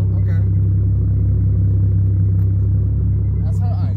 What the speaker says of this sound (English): So now y'all hear this idle, right?